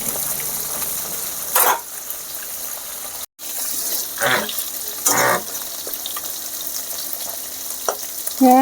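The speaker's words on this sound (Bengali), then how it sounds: "পেঁয়াজটা ভাজা ভাজা হয়ে গেছে" Steady sizzling of onion frying in hot oil, with occasional stirring clinks and brief scrapes.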